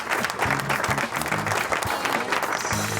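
Applause from an audience greeting a co-host at the start of a live show, steady clapping mixed with voices talking over it throughout.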